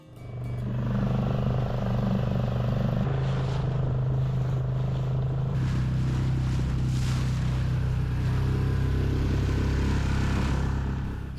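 A dinghy motoring across a bay at Bear Island (Bjørnøya), its steady low engine drone mixed with rushing water and heavy wind buffeting the microphone, continuous and loud throughout.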